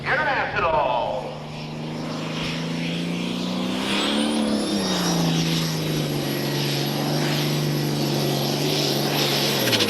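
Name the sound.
International pulling tractor engine, 466 cubic inches, at full throttle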